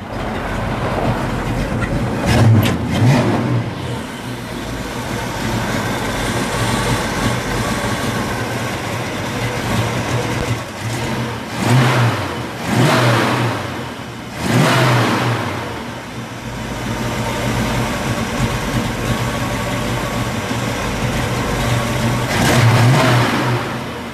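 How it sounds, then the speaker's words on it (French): A big-block V8 engine idles with a deep, steady rumble, swelling into a few brief revs before settling back to its low throb. "on entend bien le fonctionnement du big block à l'arrêt"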